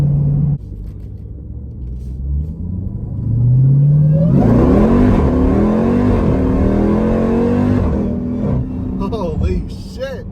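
The 900-horsepower engine of a Jeep Trackhawk rumbles at idle, then revs hard and surges into a loud, rising acceleration that sustains before easing off, with a voice speaking over it.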